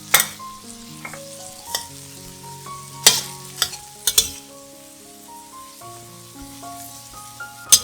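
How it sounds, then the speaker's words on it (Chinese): Cabbage, ginger and coriander frying in melted butter, with a soft sizzle and a few sharp clanks and scrapes of stirring, set against a gentle melodic music track that carries throughout. "奶油融化后，放入高丽菜、姜和香菜爆香。"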